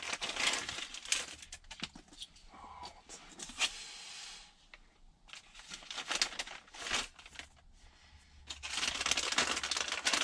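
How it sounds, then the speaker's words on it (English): A plastic bag being cut open and handled while installing a stereo upgrade in a Kenworth C500 truck: crinkling, rustling bursts with scrapes and short pauses, close up and fairly loud, without speech. "because I cut the bag open"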